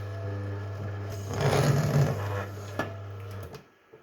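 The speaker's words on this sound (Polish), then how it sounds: "W momencie opuszczenia dźwigni wiertarka zaczyna pracować, wiertło w tej chwili już się obraca" A drill press runs with a steady motor hum, the bit grinding into material for a couple of seconds before the machine winds down and stops.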